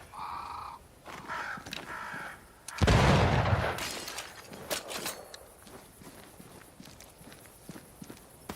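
A crow caws a few times in the game Banishers: Ghosts of New Eden, followed by a loud crashing burst and scattered footsteps and thuds.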